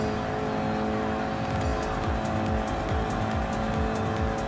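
A KTM X-Bow R race car in Gran Turismo Sport, its engine roaring steadily and loudly under acceleration, with repeated rising gear-change sweeps and faint tire squeal.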